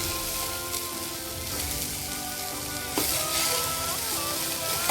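Tomatoes fry in hot oil in a pan with a continuous, close crackling sizzle that swells slightly as they are stirred.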